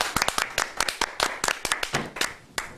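Sharp, irregular handclaps close by in a studio, a small scattered burst of individual claps rather than a full crowd, with no talking.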